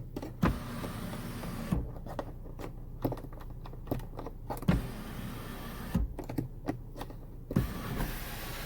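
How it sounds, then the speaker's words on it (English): The power moonroof of a 2020 Mazda CX-9 Grand Touring tilts open with a close electric motor whir, broken by repeated sharp clicks and soft clunks from the mechanism, all inside a quiet cabin. "And a sunroof with power moonroof. You can tilt it up if you want just a little bit of air."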